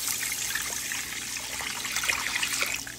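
Chicken broth poured into a cooking pot for Southern collard greens, a steady close splashing trickle that runs evenly throughout with no talking.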